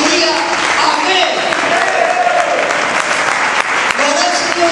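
Church congregation applauding during a sermon, loud sustained clapping filling the room with voices and shouts mixed in throughout.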